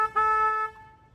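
A tour boat's horn gives one loud, steady harmonic blast of about half a second on the San Antonio River, then fades into a faint hum.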